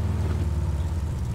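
A car engine in the PUBG video game hums steadily with a low droning idle, moderately loud and close, with no talk over it.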